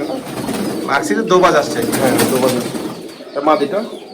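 Pigeons coo repeatedly in soft, throaty bursts at a pigeon farm in Feni Sadar housing over fifty birds, close by and layered under people talking.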